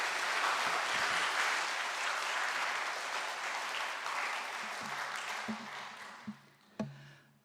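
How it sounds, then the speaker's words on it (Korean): A church congregation gives loud, sustained applause to welcome the pastor during a Sunday morning service, a broad even roar of clapping that fades in the last seconds, followed by a few soft knocks and taps. "우리 목사님 앞으로 나오실 때 큰 박수로 환영하도록 하겠습니다."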